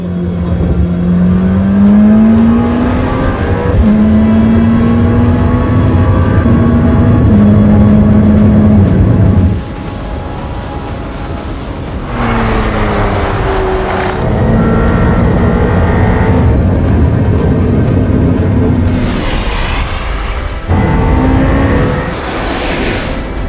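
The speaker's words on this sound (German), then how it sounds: "Die Beschleunigung natürlich mit der vollen Systemleistung, 1000 PS, die schieben natürlich." An Audi Nuvolari with 1000 hp of full system power accelerates hard, its engine note climbing through several rising sweeps with brief drops between, loud and close, without speech.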